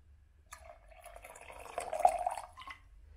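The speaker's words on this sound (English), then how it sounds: "This one you can open very easily and fill up with more water." Water pours into a Timemore electric kettle, a quiet, close trickle that swells into a fuller filling sound and then tapers off.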